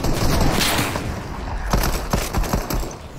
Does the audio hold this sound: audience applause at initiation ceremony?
no